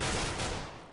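Gunfire in a competitive tactical shooter match, a brief dense volley of rapid shots heard fairly faint and distant, blurring into a continuous crackle that fades toward the end.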